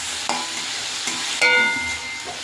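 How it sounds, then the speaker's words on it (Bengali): Gandha bhadali leaves fry lightly in a pan, making a soft, even sizzle with a few sharp scraping stirs, one louder clatter midway, then settling back to a gentle hiss. "একটু ভাজা হবে হালকা করে পাতাটা"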